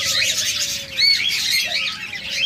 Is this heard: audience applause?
no